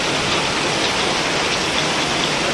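Heavy rain pours down in a dense, unbroken roar of water, loud and steady throughout with no voices.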